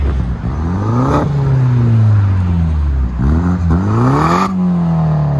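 A straight-piped 2017 BMW 430i turbo revving loud and close, its deep exhaust note sweeping up and falling back in repeated blips with no voices over it.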